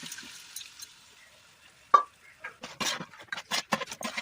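Beef is stirred and fried with masala for biryani: after a quiet start, a burst of close scraping and clattering spoon strokes against the pan comes in an uneven rhythm, with a soft sizzle underneath.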